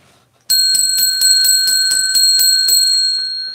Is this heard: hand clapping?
no